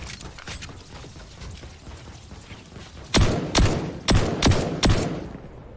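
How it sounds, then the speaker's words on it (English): Pistol fire in the video game Star Citizen, five loud sharp shots in quick irregular succession after softer background clatter and thumps, no voices. "I haven't ever used this code pistol before"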